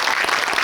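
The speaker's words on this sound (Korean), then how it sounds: "우리 윤광 감독님께 박수 한번 부탁드립니다" A short burst of audience applause for a film director at a guest-visit screening in a cinema hall, dense clapping from many hands at even loudness.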